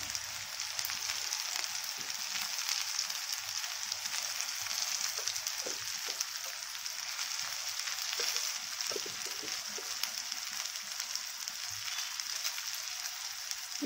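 Curry leaves and coriander sizzle and crackle in hot oil for masoor dal, a steady soft frying hiss with small pops, close and fairly quiet, with no one talking.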